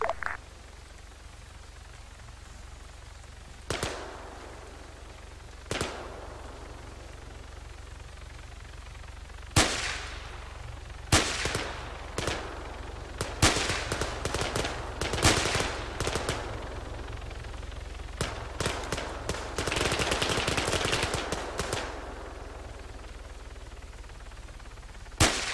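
A gunfire exchange in the military shooter Arma 3 during a SWAT police scenario, sparse single shots at first that build into dense bursts of automatic fire and overlapping cracks, loud and close against a steady low rumble.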